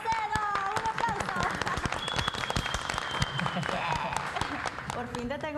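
Studio audience applause with scattered cheers fills the clip, a dense burst of clapping from a crowd on a Spanish-language TV talk show, steady and lively, with some voices mixed in.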